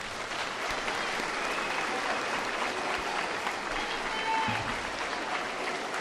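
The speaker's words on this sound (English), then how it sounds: "let's give a round of applause for our 7th graders who are about to receive their awards" A school awards assembly audience claps for 7th grade award winners, with dense, steady applause filling the hall without a break from start to finish.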